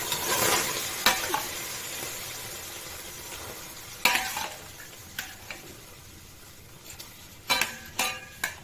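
Small mushrooms stirred in a pan with water, giving a soft steady sizzle broken by scattered utensil scrapes and clinks against the pan, fairly quiet and close, with no talking.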